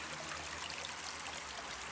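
Steady rushing and trickling of a creek flowing over an undermined, cave-riddled bank, a continuous close wash of water with no voices.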